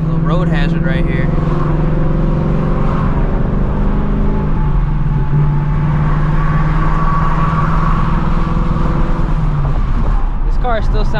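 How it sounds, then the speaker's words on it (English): A 2024 Ford Mustang GT V8 fitted with an H-pipe exhaust, in normal drive mode, rumbles loudly from inside the car on the road, its engine note rising and settling with shifts as people talk over it. "This car still sounds good in the normal mode with the H-pipe."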